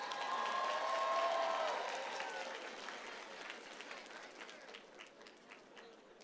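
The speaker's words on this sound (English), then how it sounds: "So, round of applause for Alexis" A crowd at a graduation ceremony claps steadily, starting full and loud with a few cheers and whistles, then slowly thinning and fading over several seconds with no speech on top.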